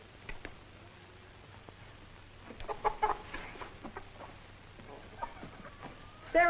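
Chickens on a farm cluck in scattered bursts, a flock heard at moderate distance against a quiet rural background.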